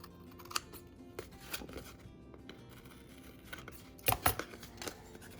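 Scissors cut through strips of washi tape while crafting, with a few close, light snips and rustles, the sharpest pair near the end, and no talking.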